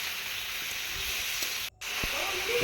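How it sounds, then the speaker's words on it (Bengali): Pieces of chicken frying in a pan, giving a steady close hiss and sizzle that runs almost unbroken, with a brief gap and a few soft stirring knocks. "এখন এই চিকেনটাকে ভালো করে নাড়াচাড়া করে ভেজে নেব, হালকা ভেজে নেব এখন।"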